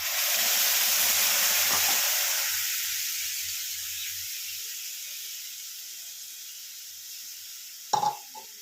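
Ground onion paste dropped into hot oil, giving a loud sizzling hiss with low bubbling that gradually dies down to a faint steady fry. A brief clatter comes near the end. No talking.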